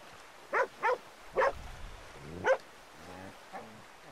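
Dog barking in the Western game Red Dead Redemption 2: five or six sharp, close barks in an uneven sequence, ending in a couple of softer yips and whines.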